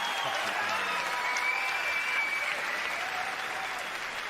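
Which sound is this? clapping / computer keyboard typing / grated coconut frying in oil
clapping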